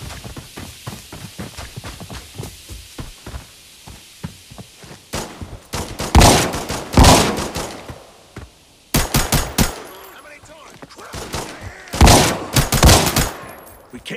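Automatic gunfire from an Arena Breakout firefight, with rapid bursts of suppressive fire loud and close, separated by short pauses, over scattered footsteps and fainter distant shots.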